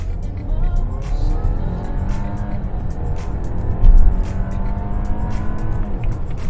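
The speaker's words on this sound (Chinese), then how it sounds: "我们地板要走" An Audi A6L launched from a standstill at full throttle through its dual-clutch gearbox, the engine roaring loudly and climbing through revs with a brief tyre chirp, heard from inside the car.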